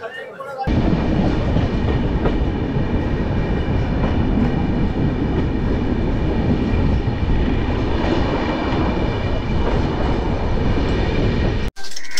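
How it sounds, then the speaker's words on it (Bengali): A night train pulls out of a station, a loud, sustained rumble and rattle of wagons close by, with a faint murmur of voices, before cutting off abruptly. "ট্রেন ছেড়ে দিল"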